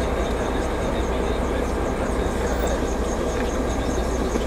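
Tram crossing an intersection in Wrocław, a steady broadband rumble of wheels and motor holding at an even, fairly loud level throughout with no voices.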